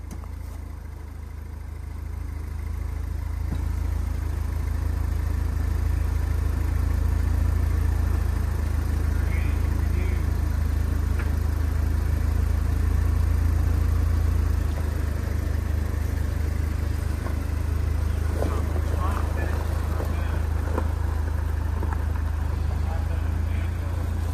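A Pontiac Solstice engine runs steadily with a deep low rumble once the emergency brake comes off, holding a constant idle-to-light-throttle drone for the whole stretch with faint background sounds and no talk.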